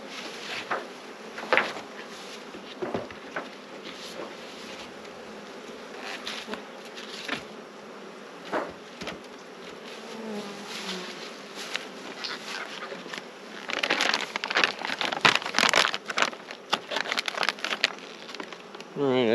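Honey bees buzz steadily around production hive boxes as they are slid off, a dense insect drone throughout that swells louder and busier toward the end, with light handling noises and no speech.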